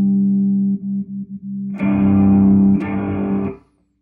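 Electric violin run through a heavy amp simulation on a Line6 Helix, giving a few sustained, distorted notes that swell into a thick, gritty chord before cutting off abruptly, loud and close, with no talk.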